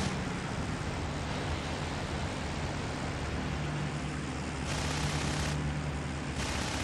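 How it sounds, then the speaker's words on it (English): Spitfire strafing gunfire in the IL-2 Sturmovik flight combat game, a dense continuous roar of rapid fire blended with engine drone, loud and unbroken, surging briefly near the end. "We see more Spitfire strafing runs."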